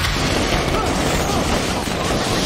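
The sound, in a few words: fireworks in a film scene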